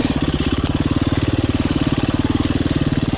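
A KTM 350 EXC-F enduro motorcycle idles just after starting, its single-cylinder engine thumping in a fast, steady, even pulse up close and loud, with no talk over it.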